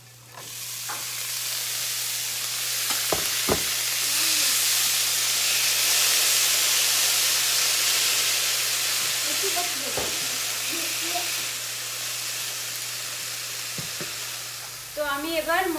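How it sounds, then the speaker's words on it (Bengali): Banana flower frying and sizzling in a pan, a steady dense hiss with occasional stirring clicks and scrapes throughout, close and continuous with no talk. "তো আমি এবার মোচাটা ভাজা ভাজা করে নেব।"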